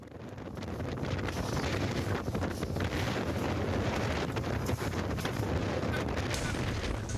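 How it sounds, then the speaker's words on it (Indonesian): Strong wind gusts across Manakara beach in Mamuju during a festival, roaring steadily as loud broadband buffeting on the microphone for the whole stretch, with no clear voices above it. "Angin kencang tiba-tiba datang dan menyapu sejumlah tenda UMKM"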